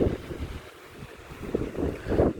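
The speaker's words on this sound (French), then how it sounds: "j'en profite pour filmer le coup de vent" A gust of wind buffets the microphone outdoors, with low, uneven roaring surges that swell and ease, strongest at the start and end, with no one speaking.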